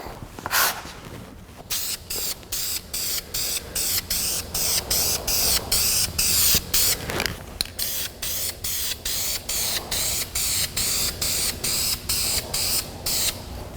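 An aerosol can of combined primer and paint sprays a custom instrument cluster part in a long run of short, loud hissing bursts, close up and in a fairly regular rhythm.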